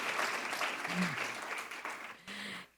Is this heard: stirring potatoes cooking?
no